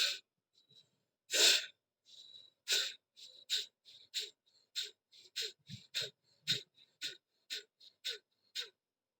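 Sharp, forceful nasal exhalations of Kapalbhati yoga breathing, about fifteen short puffs in a quickening, fairly regular rhythm, close and alone with silence between each.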